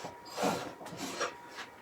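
A woodturning tool's edge is honed against a small DMT diamond card, giving a few soft rasping scrapes in an irregular rhythm, close and moderately quiet, with no talking.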